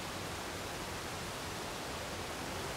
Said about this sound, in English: its remoteness allowed me to experience the sound of the cascading water without interruption